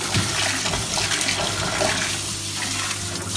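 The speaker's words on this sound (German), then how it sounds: "Ich gehe jetzt hier mit dem Schlauch durch," A garden hose sprays pond water over a gravity pond filter during cleaning, giving a steady close hiss and splatter that shifts as the jet moves.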